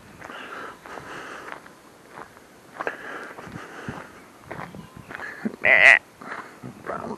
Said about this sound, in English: There's some sheep